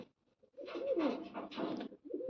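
A pair of pigeons coo close by, one drawn-out, throaty rolling call lasting over a second with softer coos just before and after it, without any talk.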